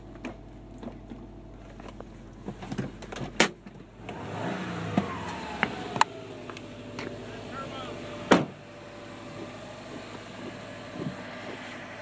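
A 2012 Subaru Impreza WRX STI with a 6-speed gearbox gives a low engine rumble that drops away, followed by scattered clicks, thumps and a softer running hum, heard close up.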